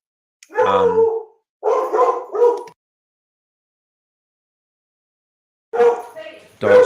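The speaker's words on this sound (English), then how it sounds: "Dogs going crazy." Dogs bark in loud, close bursts, three clustered in the first few seconds, then a long silence before two more near the end.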